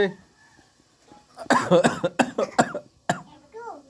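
A rapid series of close, harsh coughs breaks out after a quiet start, with short voiced bursts and brief pauses between them.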